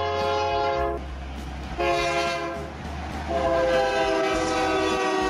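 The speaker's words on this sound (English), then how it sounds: "train," A train rolls past close by while its horn blows in loud, sustained blasts, with the rumble of the wagons running underneath.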